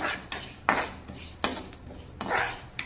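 Black urad dal roasting in a pan, stirred with a metal spoon that scrapes and clinks against the pan in several distinct strokes, close and fairly loud with no talk.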